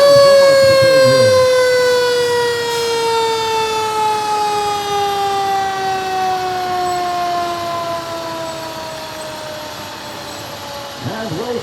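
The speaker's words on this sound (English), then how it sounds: "Wellsville Fire Department, Emerald Hook and Ladder Company, number 3, the Emerald Fire Truck" Wellsville Emerald Hook and Ladder Company number 3 fire truck sounding its siren during a balloon rally parade, a loud steady wail slowly sliding down in pitch for about ten seconds, with a brief yelp at the start and end.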